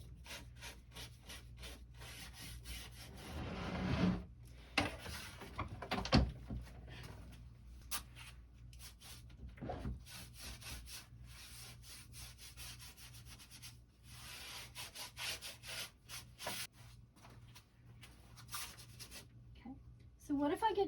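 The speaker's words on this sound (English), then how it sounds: "the painting isn't taking me all of that long because it is a dry brush and it's going super, super quickly" A dry brush scrubs paint onto a vintage wooden trunk in quick, repeated rasping strokes, close and fairly faint, with someone talking over parts of it.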